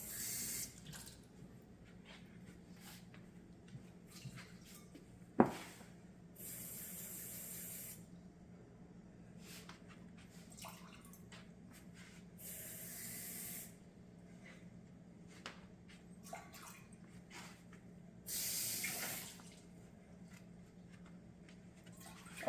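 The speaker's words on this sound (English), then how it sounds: "Now we're gonna add 1 cup of water to it." Water is poured into a pan in four separate quarter-cup pours, each a brief splashing hiss spaced apart by quiet kitchen moments, with a sharp clink between.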